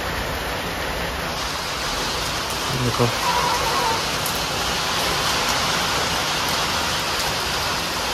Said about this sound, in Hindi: अचानक बहुत तेज़ी बारिश स्टार्ट हो गई।